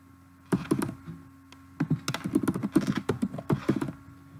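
Typing a variable name on a computer keyboard in SPSS, a quick irregular run of close clicky key taps in short bursts, with no talk.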